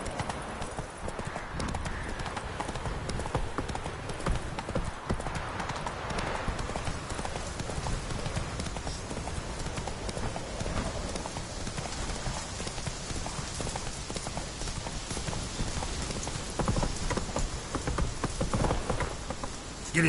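Roach the horse galloping in The Witcher 3, a steady drumming clip-clop of hooves running continuously and loudly over a rain-like wash of ambience, with occasional faint voice.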